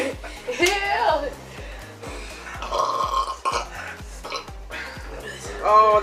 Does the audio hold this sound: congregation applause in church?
no